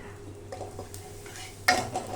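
Ground turmeric, cumin, coriander and red chilli powder being stirred and fried in a pan, with soft scraping and stirring strokes and a brief louder clatter of the spoon against the pan near the end.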